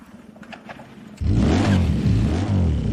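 A custom-built motorcycle with a reinforced welded frame bursts into a loud, sustained engine rev on a test ride after a second of quieter background, holding a strong, steady throaty roar to the end.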